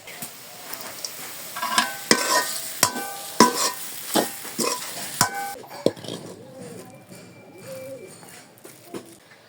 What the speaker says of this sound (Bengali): বন্ধুরা, পুরটা ফ্রাই হয়ে এসছে, এখন ধনেপাতা কুচি দিয়ে আরো একবার নেড়ে নামিয়ে নিব।